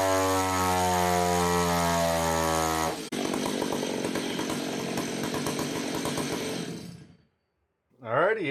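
A Stihl MS880 chainsaw with a max flow air filter and bark box runs loud and close, holding a steady high idle before revving hard and aggressively. It then cuts off into brief silence and fires up again.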